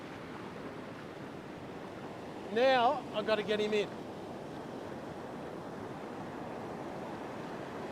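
Big waves and wild surf break on a beach in a steady, rushing roar, with someone briefly speaking close by over the noise.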